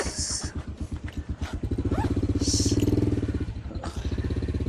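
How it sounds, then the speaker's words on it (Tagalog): A motorcycle engine chugs steadily up close with a rapid, even thumping rhythm, briefly swelling louder midway through, near the sea in Alaminos, Pangasinan. "Yan ay motor niya, nasa unahan siya oh."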